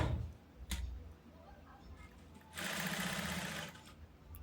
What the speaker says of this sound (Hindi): अब मैं इसको गले को अच्छे से सेट करके इसके ऊपर और नीचे वाले साइड दोनों तरफ सिलाई लगाऊंगी।